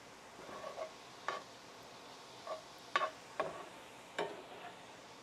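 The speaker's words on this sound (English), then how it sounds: "We're going to add some black pepper. Stir this around." Black pepper being stirred into a Thanksgiving turkey dressing: a handful of soft, scattered scraping and clicking strokes at uneven intervals, quiet and close, with no talking.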